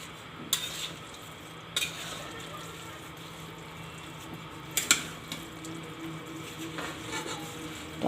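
Mango and carrot pieces being mixed together for a pickle with a spoon, giving soft scraping stirs and a few sharp clinks against the vessel over a low background hum.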